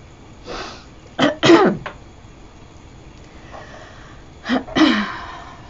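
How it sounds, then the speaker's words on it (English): Two clusters of sharp coughs and sniffs, close to the microphone, separated by a few seconds of quiet breathing. "Sorry for all the sniffling and coughing."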